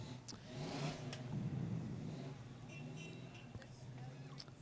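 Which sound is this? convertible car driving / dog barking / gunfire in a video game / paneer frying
convertible car driving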